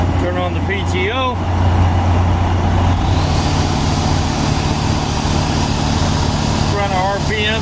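A tractor engine runs loud and steady with the PTO engaged to drive a pneumatic trailer unloader, a constant heavy drone that builds slightly, with people speaking over it near the start and end.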